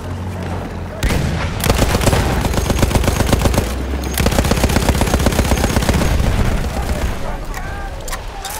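Lewis gun machine gun firing in the World War I shooter Battlefield 1, two long rapid bursts of loud close automatic fire with a short pause between, trailing into echoing battlefield noise.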